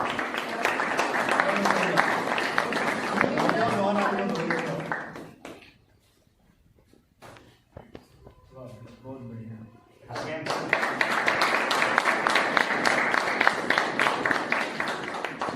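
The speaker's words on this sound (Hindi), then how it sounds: "सभी तालियों के साथ" Applause rises for Mukesh ji at a district-level worker training camp of the Sarhadi Lok Sewa Samiti in Fazilka. Dense clapping runs under talk for several seconds, drops to near quiet with a voice in the middle, then swells back strongly.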